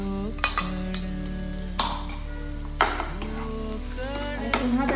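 Onion, tomato, coconut, ginger and garlic masala frying in a pan for a Malvani gravy, a soft sizzle under intermittent clinks and scrapes of a spoon against the pan, with no talk.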